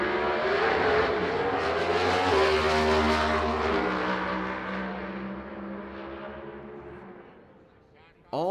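A pro drag racing car roars hard as it accelerates, its engine note climbing and dropping with each rapid gear change before fading into the distance, then cutting off abruptly.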